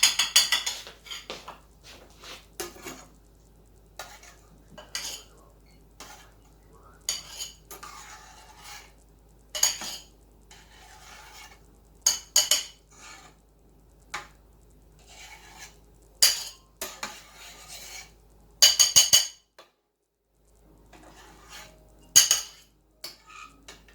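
A metal spoon scrapes and clinks against a pot while skimming foam off wisteria jelly, producing sharp intermittent taps and scrapes spaced irregularly over a quiet background.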